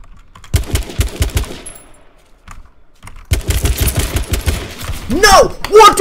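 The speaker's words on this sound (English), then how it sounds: "I shot him 3 times!" Rapid gunshots in a first-person shooter game, fired in quick bursts of close, punchy shots with a short pause between volleys, followed by a voice shouting at the end.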